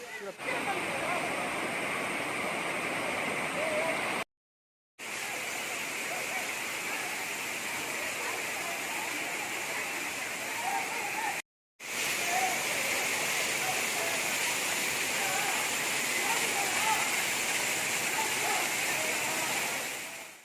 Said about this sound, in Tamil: அருவியை ஃபுல்லாக காட்டுங்க.